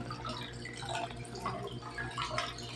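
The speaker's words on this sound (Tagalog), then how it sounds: "Kaya ayaw mamatay yung tubig." Water runs from a broken bathroom faucet that can no longer be shut off, a steady close wash of trickling and dripping with no pause across the stretch.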